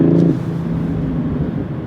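A 2025 BMW X3 M50 engine gives a steady low rumble with a brief rising rev at the start, settling into a continuous throaty drone with no talking.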